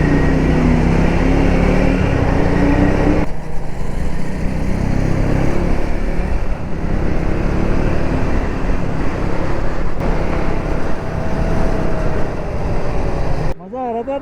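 A Suzuki V-Strom 250 motorcycle rides along with a loud, constant engine drone mixed with heavy wind rush, steady throughout, ending with a brief shift in sound near the close; no one talks.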